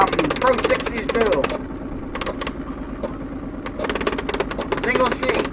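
A Juliet braille embosser prints with a rapid mechanical hammering, arriving in two dense bursts separated by a quieter pause, with a person talking over the machine.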